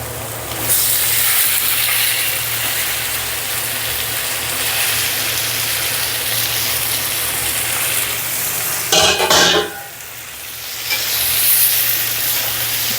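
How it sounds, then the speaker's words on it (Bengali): Pumpkin fries in a pan with onion, chili and turmeric, giving a steady, loud sizzle throughout. A sharper burst of hissing comes partway through, and no voices are heard. "বন্ধুগণ, এবার দিয়ে দিব ভেজে রাখা কুমড়োগুলো।"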